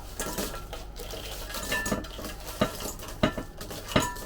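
Crunchy pieces of toasted bread for panzanella salad rattle and knock against a bowl as they are tossed, with a few sharper taps over a dry rustle.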